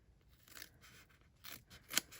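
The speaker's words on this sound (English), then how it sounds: "I kind of cut this in half" Scissors snip through a piece of card for a layered vellum sunflower card, a few faint crisp cuts followed by one sharper, louder snip near the end, with no talk.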